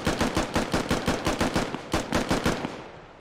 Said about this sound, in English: Fulcrum just shooting whoever he can